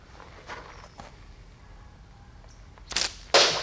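A slingshot fires a 22 mm lead ball, with a few soft snaps early on and then two sharp, louder cracks near the end over quiet outdoor background.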